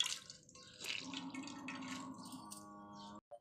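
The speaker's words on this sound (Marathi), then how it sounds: "आता हे असं फक्त भाजीतलं पाणी पिळून घ्यायचं." Washed drumstick leaves are squeezed by hand over a kitchen vessel, giving a short, faint trickle of water that runs steadily for a few seconds and then stops.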